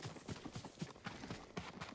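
A horse's hooves clip-clop at a steady trot in Ghost of Tsushima, close and rhythmic, about eight beats over two seconds with no talk.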